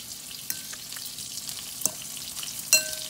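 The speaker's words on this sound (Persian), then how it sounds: "سپس تو روغن داغ این قارچه رو هم سرخش میکنم." Thickly sliced mushrooms, coated in the batter mix used for shrimp, fry in hot oil with a close, steady crackling sizzle punctuated by a few sharper pops and stirring knocks.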